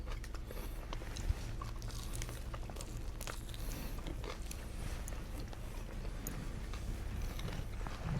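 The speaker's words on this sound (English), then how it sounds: "Sorry again for munching in your ear." Close, soft munching and chewing of a bite of food right at the microphone, a run of small crunchy clicks over a low steady background hum.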